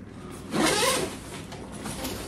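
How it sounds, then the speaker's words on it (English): A zip on a winter backpack is pulled open in one quick smooth rasping stroke, close and fairly soft, followed by faint rustling. "it's got two zips down the front and sides"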